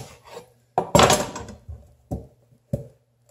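A knife cuts a Seminole pumpkin in half, giving several separate close scraping and crunching bursts with short pauses between them, one longer rasping cut near the start.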